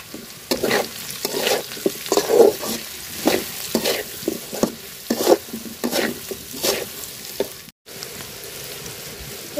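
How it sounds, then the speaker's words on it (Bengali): Potato with onion and chili fries in hot oil, a steady sizzle broken by repeated scraping strokes of a spoon stirring the pan, close and fairly loud. "পেঁয়াজ মরিচের সাথে আলুটা আমি ভাজা নিচ্ছি।"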